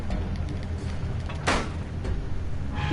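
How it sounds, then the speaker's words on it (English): A heavy door slams shut in The Wolf Among Us, a single sharp broadband bang over a low ambient game background. "Letting a door like that just slam."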